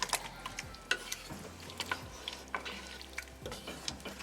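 A pot of goat curry with homemade dahi being stirred over the heat: soft scraping and tapping of a spoon against the pot with a low sizzle underneath, quiet and close.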